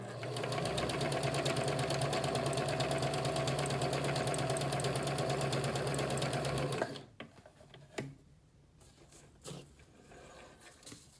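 A Kenmore 385 sewing machine running a blind hem stitch, a fast steady mechanical whir that stops abruptly partway through, followed by a few soft clicks and handling noises.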